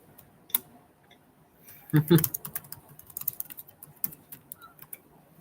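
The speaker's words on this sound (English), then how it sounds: "is typing in chat" Computer keyboard typing in a chat window, a quick burst of clustered key clicks followed by scattered lighter taps, close and fairly quiet with faint background noise.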